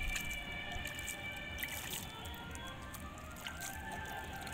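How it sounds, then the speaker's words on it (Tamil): Water is sprinkled onto potting soil holding table rose (portulaca) cuttings, giving a steady close hiss of spray with soft patters and drips throughout and no speech. "இதில் கொஞ்சம் இப்போ நம்ம தண்ணி தெளிச்சு விட்டுக்கலாம்."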